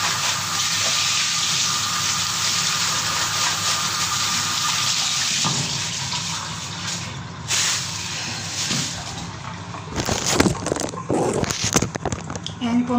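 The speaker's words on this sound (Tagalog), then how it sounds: "Tapos, huhugasan natin yung plastic." Tap water runs steadily into a sink while a plastic bag is rinsed, a continuous hiss with rustling and splashing bursts toward the end, under some talk.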